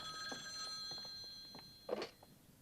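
An old-style telephone rings with short bursts of a bright electronic bell, fairly faint and indoors, the last ring slightly louder, with no talking.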